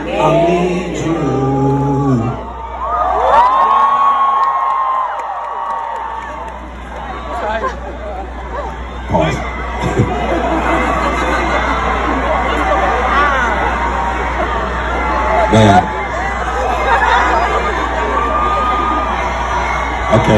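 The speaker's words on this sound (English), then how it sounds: "Okay, y'all keep yelling." A large concert crowd at a tour stop in Philadelphia yells, whoops and cheers in a dense, continuous roar. Loud voices and screams rise above it throughout, and a performer speaks over the noise early on.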